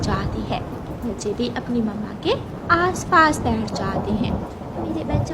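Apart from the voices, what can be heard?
thunderstorm with rain in a cartoon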